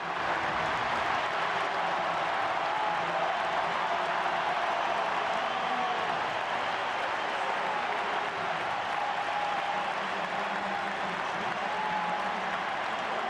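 A stadium crowd at a Copa America 2024 football match between Argentina and Chile applauds substitutes Lautaro Martinez and Angel Di Maria. The broad, distant wash of clapping and crowd noise stays continuous throughout.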